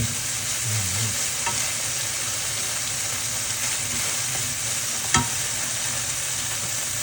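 Holy basil and fish roe stir-fried in a hot pan, a loud steady sizzle with scraping stirring throughout and one sharp clack of the utensil near the end, no talking.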